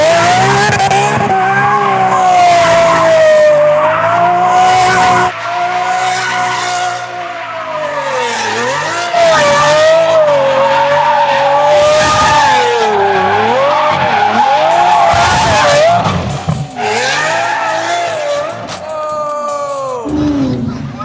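A car doing donuts at a no-prep drag racing event, tires squealing and skidding loudly and continuously for about twenty seconds, with the engine roaring and pitch swinging as it circles, crowd noise faintly underneath.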